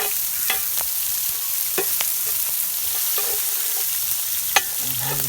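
Onions and peppers sauteing in a Dutch oven for elk steak stew, a constant bright hiss of sizzling with occasional soft pops and scrapes of stirring, close up and steady.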